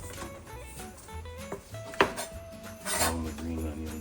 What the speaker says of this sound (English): we don't want to chop that super fine, but I am going to go pretty thin